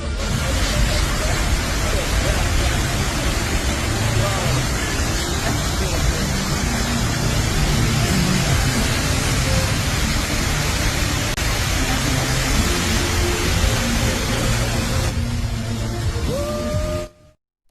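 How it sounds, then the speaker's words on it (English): Loud, unbroken broadband hiss like white noise, filling a clip of a Rolls-Royce showing off before it cuts out sharply near the end. "There's a lot of white noise there."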